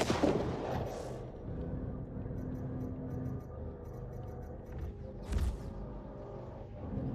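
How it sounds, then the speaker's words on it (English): Ships arriving from quantum travel in the space game Star Citizen make sharp, crackling, firecracker-like bursts: one at the start and another midway, each brief and loud over a steady low engine drone. "I really don't like the firecracker sound that comes in when someone's quantum in"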